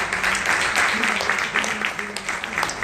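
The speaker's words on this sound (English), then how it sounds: "Let's give her a huge round of applause" Audience applause at an event launch at the Taj Blue Diamond in Pune, a dense sustained clapping from a room of people, steady and fairly loud with a voice audible over it.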